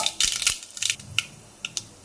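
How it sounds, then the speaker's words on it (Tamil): Mustard seeds hitting hot oil in a pan while making capsicum egg masala, giving a run of sharp, scattered crackles and pops, some loud and close, with quieter gaps between bursts. "இப்போது கடுகு லைட்டாக சேர்த்துக்கோங்க."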